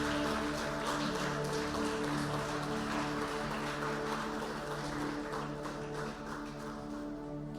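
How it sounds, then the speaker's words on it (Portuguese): A church congregation applauds together in a steady, dense wash of clapping that carries on for several seconds, with a sustained tonal hum running beneath it. "Aplaudimos a Jesus"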